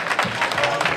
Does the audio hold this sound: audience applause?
yes